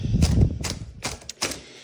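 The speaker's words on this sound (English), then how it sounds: "This is a Corona Comet, and it was supposed to be a little economy typewriter." A Corona Comet economy typewriter handled as it is lifted out, giving a few sharp knocks and clacks of its metal body spaced irregularly, close and fairly loud, with no voices.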